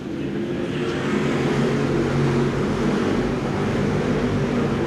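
Race cars roar together at the start of a weekly race at Seekonk Speedway, a dense, loud, continuous wash of engine noise held steady throughout.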